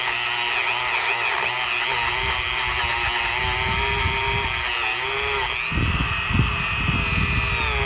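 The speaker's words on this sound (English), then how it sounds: "I'm going to end up doing is grabbing a Dremel tool, and I'm literally going to go over every millimeter of this" A Dremel rotary tool grinds casting slag off an engine casting, a continuous high-pitched whine held close and loud, with a shift in tone partway as the bit bears down harder.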